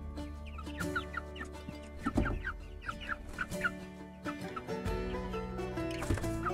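Chickens cluck and squawk inside a homemade backyard coop, with repeated short calls from several birds close by, some louder squawks standing out over a steady busy background.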